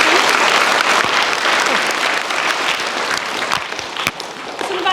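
A loud, dense round of applause from an audience, many hands clapping at once in a continuous roar that eases slightly toward the end, with no talk over it.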